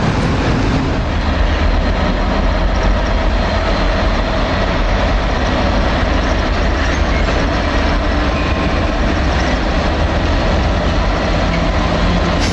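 A Chiltern Railways train at Marylebone station gives off a constant loud rumble and hiss of engine and rail noise that holds steady throughout, with no voices.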